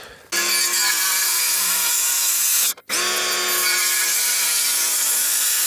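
A power saw cuts wooden fascia boards for a chicken coop roof in two long, loud, close passes, whining steadily with a brief pause between them.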